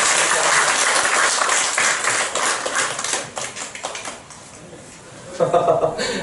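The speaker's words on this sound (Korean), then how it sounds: "박수로 환영하겠습니다." A church congregation applauds with dense, steady clapping that gradually thins and fades, then a voice speaks briefly at the end.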